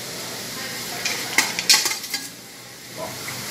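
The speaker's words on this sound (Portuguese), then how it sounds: "Agora eu vou colocar os legumes." Vegetables dropped into a pot of chicken noodle soup: a few quick metallic clinks and soft splashy knocks from a utensil against the pot, close and brief, over faint background noise.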